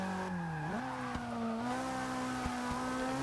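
Engine of a 1992 Lancia Delta HF Integrale EVO in the racing game Forza 6, a steady droning hum that climbs in pitch early on, then holds a sustained loud tone with a few sharp clicks, no talking.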